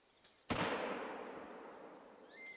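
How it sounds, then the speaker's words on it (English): A single sharp rifle gunshot in theHunter: Call of the Wild hunting game set in Sundarpatan, Nepal, a loud sudden crack followed by a long rolling echo that fades slowly, with faint distant bird chirps behind. "Was that a gunshot?"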